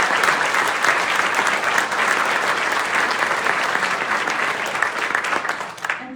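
Sustained audience applause at a nurse award ceremony for Billings Clinic staff, dense steady clapping from a large crowd that fills the room and fades out at the very end.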